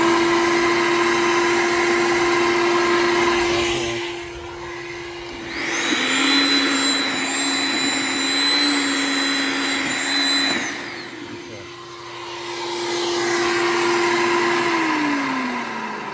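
An electric wood chipper runs on a portable power station, giving a steady close motor hum that swells into a louder, harsher grinding whine for several seconds before easing back to the idle drone. No talking.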